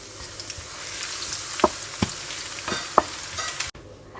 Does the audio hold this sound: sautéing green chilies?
yes